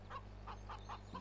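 Hens cluck in a simple henhouse in the video game Farming Simulator 17, four or five short clucking calls spaced evenly over a steady low hum, close and clear, with no talk.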